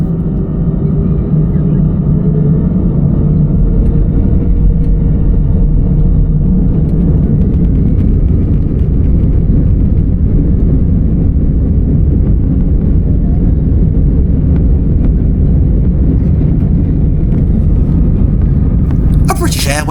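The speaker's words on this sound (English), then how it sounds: "we're ready and rolling onto the runway. I'll let you sit back and enjoy the takeoff." An EasyJet passenger jet rolls down the runway for takeoff, heard from inside the cabin as a loud, steady, continuous engine roar and rumble with no pauses.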